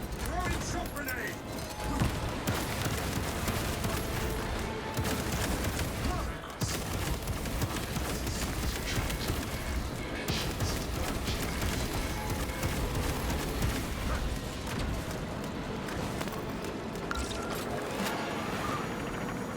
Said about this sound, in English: Throwing shot grenade.